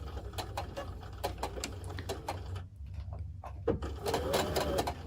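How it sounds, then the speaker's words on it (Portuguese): Sewing machine stitching fabric, a fast rhythmic mechanical clatter close by that briefly pauses and resumes for a short reverse backstitch at the end. "e vou costurar, e agora me preocupando de aqui no centro passar bem certinho ali"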